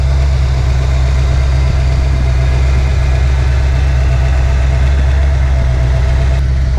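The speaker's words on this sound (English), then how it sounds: "Car's idling a little high." A Ford Foxbody Mustang fitted with BBK headers idling a little high, a steady, loud, deep engine drone with constant low rumble and no talk over it.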